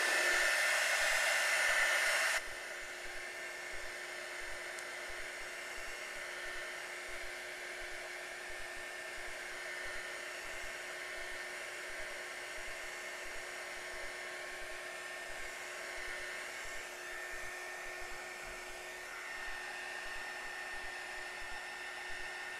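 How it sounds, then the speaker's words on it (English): A hair dryer drying watercolor paint whirs loudly for the first two seconds, then drops to a lower, steady hum that runs on with a constant tone. "Please let me know if the dryer is too loud."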